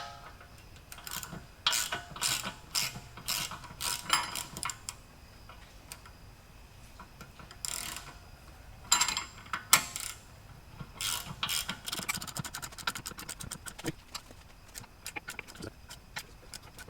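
A hand ratchet clicks in bursts of quick ticks as a new rear trailing arm bushing is pressed into a BMW E36 by hand, with pauses between the cranking spells and no talk.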